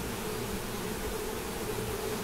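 Brazilian stingless mandaçaia bees buzz in a dense, steady drone that fills the whole moment, close and constant with no pauses and no voices.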